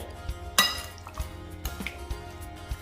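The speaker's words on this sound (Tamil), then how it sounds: "இப்போ நான் அதுக்கு முட்டையை ஊற்றி நான் அதே மிக்ஸ் பண்ணி கொடுக்க போகிறேன்" Egg is worked into marinated chicken in a bowl, heard as a string of close clinks and taps of utensil against the bowl, with one sharper knock early on, over a quiet background.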